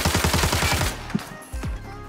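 Pistol gunshots in the Arena Breakout video game, a rapid burst of loud, close shots in quick succession, then a couple of spaced single shots.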